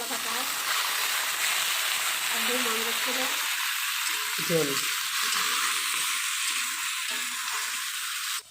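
Potato and bitter gourd frying in mustard oil in a hot kadai, a steady hissing sizzle with a few soft utensil clinks and a voice speaking over it.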